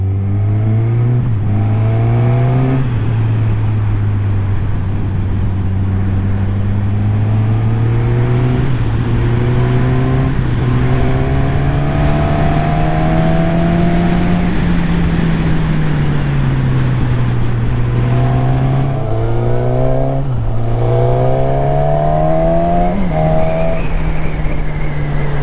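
A Suzuki Katana motorcycle engine drones loudly and continuously while riding through a country village, its pitch rising and dropping with throttle and gear changes under steady wind rush.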